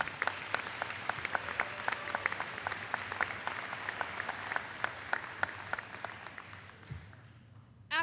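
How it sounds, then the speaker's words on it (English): A graduation audience claps steadily for several seconds, a dense patter of many hands that gradually thins out before stopping. "we should give it up for all of those achievements. A round of applause for the class of 2017"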